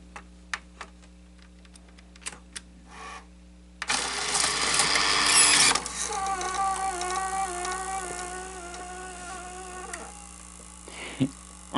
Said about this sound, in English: Oh, it is actually retracting. It's retracting the tape.